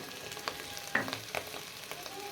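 Chicken and onions fry in a pan with a soft continuous sizzle, broken by a few light clicks and scrapes of stirring, fairly faint and close.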